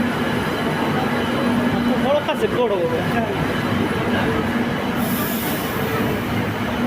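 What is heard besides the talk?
metro train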